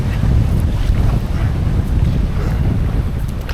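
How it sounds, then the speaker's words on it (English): A strong gust of wind hits a canoe on open water, a loud, steady roar of wind buffeting the microphone over washing waves for the whole stretch, with no talk. "What a gust."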